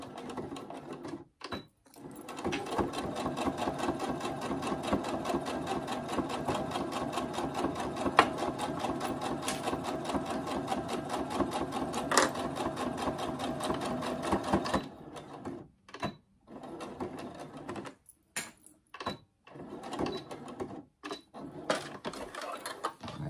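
A sewing machine topstitching half a centimetre from the edge of a fabric phone pouch, running in a long steady whir for about fifteen seconds, then short stop-start bursts of stitching with brief pauses.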